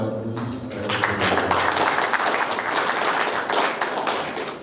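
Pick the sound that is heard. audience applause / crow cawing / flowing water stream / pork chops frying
audience applause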